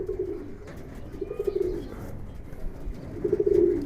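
Green-necked Giribaz pigeons cooing in three low, throaty bursts close by, with faint rustling between the calls.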